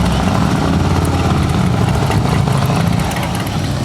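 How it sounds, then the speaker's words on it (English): A heavyweight motorcycle engine idles steadily close by, a continuous low rumble with a fast even pulse, loud and unbroken with no talking over it. "you want to ride a heavyweight motorcycle, you can do it"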